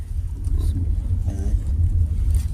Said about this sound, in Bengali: যাচ্ছি আমরা গাড়ি দিয়ে স্টার্ট করে দিয়েছি